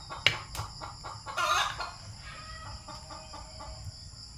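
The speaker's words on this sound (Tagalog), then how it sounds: "Ang inahin na manok." A hen clucking in a home kitchen setting, giving a few short, fairly close clucks with scattered clatter and room noise around them, no talk.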